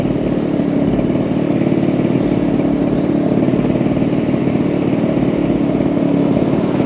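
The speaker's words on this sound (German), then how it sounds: "Aber der Roller fährt erstmal super." Suzuki Katana EY50 50cc scooter being ridden on a road, its small two-stroke engine buzzing steadily and loudly close by with a fast even rattle throughout.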